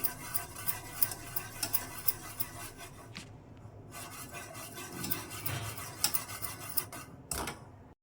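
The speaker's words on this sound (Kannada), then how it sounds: "ಈ ರೀತಿ ಚೆನ್ನಾಗಿ ಕುದೀತಾ ಇರಬೇಕು ಆದರೆ ಕೈ ಬಿಡದೆ ತಿರುಗಿಸ್ತಾ ಇರಬೇಕು" A spoon keeps stirring milk boiling in a pot on medium flame for homemade ice cream, giving continuous scraping and swishing against the metal with a couple of brief pauses, close and steady, with no talk.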